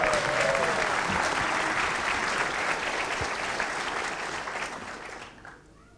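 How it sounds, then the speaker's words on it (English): A conference audience breaks into sustained, dense applause at a closing session, steady and full for several seconds before thinning out and fading near the end. "And a big round of applause to Chris."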